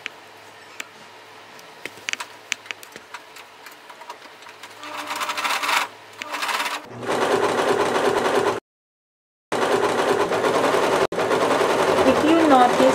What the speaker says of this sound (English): Now we are closing the dart lines of the back skirt.